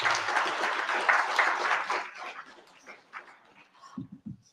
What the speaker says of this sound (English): let's give a round of applause for these people